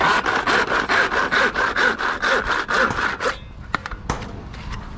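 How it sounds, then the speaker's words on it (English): A handsaw cuts through a wooden fascia board in loud, close, regular back-and-forth strokes, roughly two per second, then stops and leaves a few light knocks and clicks. "if you rest your saw on the fascia and the thingy like that, just run that straight off"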